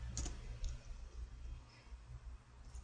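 Two faint, quick mouse clicks close together, a double click over a quiet background hum.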